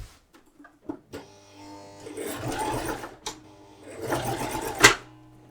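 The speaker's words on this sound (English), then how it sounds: "we're going to place the foot down, then we're going to do a few centimetres, back stitch, then a straight line" A sewing machine stitches a straight line on a shirred summer mini dress, starting with a few short bursts and a backstitch and then running in two sustained loud whirring passes, close up.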